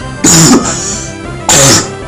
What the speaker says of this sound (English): yes, I'm still coughing